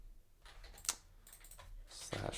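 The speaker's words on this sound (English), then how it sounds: "Sorry, I'm typing off screen" Typing on a computer keyboard off to the side during a live stream, faint scattered key clicks with a louder tap or two, without speech.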